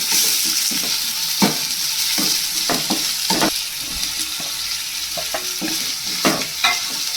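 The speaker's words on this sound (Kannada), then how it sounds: "ಅದು ಕೂಡ ಒಂದು ಮೂರು ತಗೊಂಡು ಫ್ರೈ ಮಾಡ್ಕೊತಾ ಇದ್ದೀನಿ" Onion and capsicum fry in a pan for chow mein, a constant hissing sizzle close by, punctuated by irregular clacks and scrapes of a spatula stirring the vegetables.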